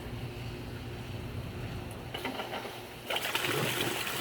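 Water from pond filter plumbing pours and gurgles steadily into a plastic trash can, a quiet continuous trickle and splash that swells slightly louder near the end.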